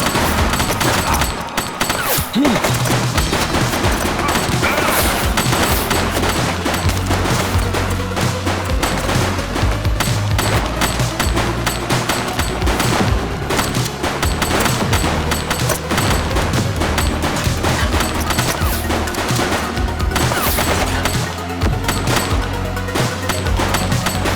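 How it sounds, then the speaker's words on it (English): Sustained gunfire from a police shooter video game set in a precinct, with dense volleys and booming shots running loudly and continuously throughout under a steady action score. "She's shooting! I see a weapon!"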